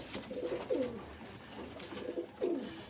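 A pigeon cooing nearby, soft repeated throaty coos in two pairs with pauses between, fairly faint against a quiet background.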